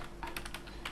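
A computer keyboard clicks during Excel work, a short burst of several light, close key taps in quick succession within one second.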